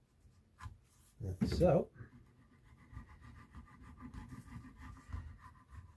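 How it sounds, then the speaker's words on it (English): Fret rubbers rub along the fret ends of a guitar with a faint, soft, close scratching, briefly interrupted by a short spoken remark. "now I'm just going over those very ends with the fret rubbers"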